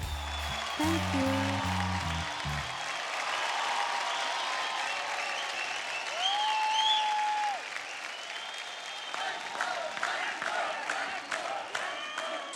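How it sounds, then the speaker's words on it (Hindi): Studio audience applause after a singing performance on a televised singing competition stage, a loud, sustained burst of clapping and cheering with some music at the start. "ताली हो"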